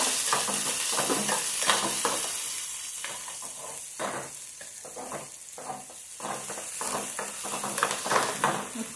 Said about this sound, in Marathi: आता ह्याच्यात भलिया बारीक चिरलेला कांदा परतून घेऊया